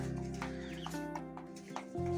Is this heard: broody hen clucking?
yes